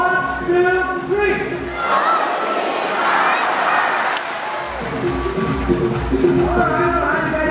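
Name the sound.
audience shouting together and clapping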